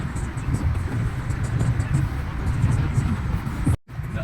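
Cars driving slowly along a snowy road in Calgary in winter, a steady low rumble of tyres and engines that persists throughout and cuts out briefly near the end.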